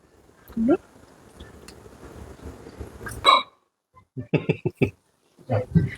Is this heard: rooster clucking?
no